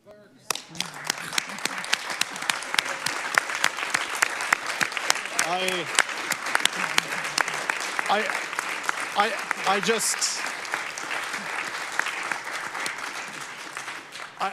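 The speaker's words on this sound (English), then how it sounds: "allow for just a round of applause for our clerk's team" Steady applause from a crowd at a council public hearing, dense clapping that swells and holds throughout, with a few voices and cheers rising over it.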